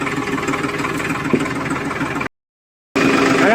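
A tractor engine runs steadily nearby with a constant idling drone, then cuts out briefly before resuming.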